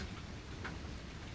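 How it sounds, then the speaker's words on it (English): Steady rain falling outdoors on a mild, calm day, a dense even patter that fills the whole moment at low, close-by volume with no voices. "I'm enjoying this, the sound of rain."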